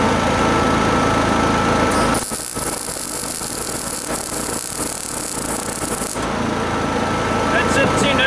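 A Honda 7000 W generator runs with its eco throttle switched off, giving a steady, loud engine drone and hum throughout, with a harsher hissing stretch in the middle.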